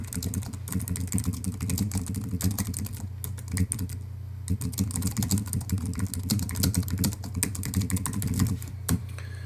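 Fast, continuous typing on a computer keyboard, close and clear, with dense key clicks and brief pauses over a low background hum.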